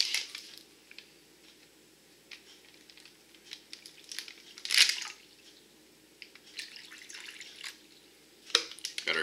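Water trickles and splashes into an XMRE meal pouch for instant coffee in a few uneven bursts, with faint dripping and crinkling in between; close by, no talking.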